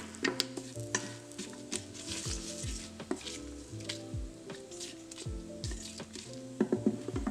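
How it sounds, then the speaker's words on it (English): Spices heating in a pan for egg biryani are stirred, a low sizzle under repeated scraping and knocking of a utensil against the pan, close and steady with no voices. "So just stir it for a little bit, let it heat up."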